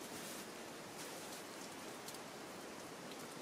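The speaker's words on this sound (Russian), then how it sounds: "Идет дождик." Steady rain falling outside a beauty salon, a dense, even hiss of drops on surfaces that holds at the same level throughout, with no voices.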